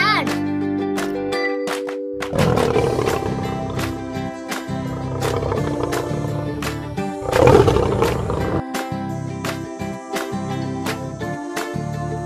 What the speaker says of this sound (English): L for lion.